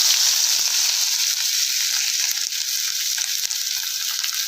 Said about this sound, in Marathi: आता गरम झालेल्या तेलात नाही आपण चिरलेला कांदा घालणार